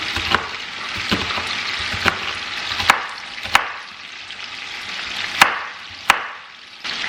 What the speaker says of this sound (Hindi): पर पहले मैं अपना एक बड़ा प्याज पतला पतला डाइस कर दूँगी.